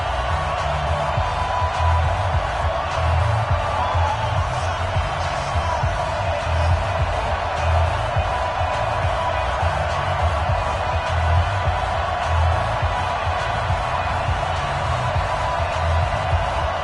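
A stadium crowd in an NFL video game, before a Houston Texans versus Atlanta Falcons match-up, makes a steady, dense roar that stays level the whole time, with faint voices mixed in.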